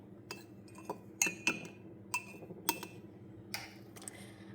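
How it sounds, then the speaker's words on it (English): A spoon clinks and taps against a glass bowl while vanilla essence is stirred into milk for fruit scones, a series of light, bright ticks spaced irregularly, close and quiet. "I'm going to quickly stir that in."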